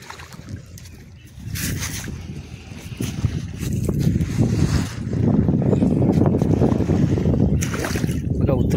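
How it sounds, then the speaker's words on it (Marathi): A diesel-engined motor fishing boat in monsoon weather chugs and churns through water, its rumble and splashing building up and getting louder, with wind buffeting the microphone and people talking. "आपण ज्या होडीने जाणार आहोत ती होडी डिझेल इंजिनची होती"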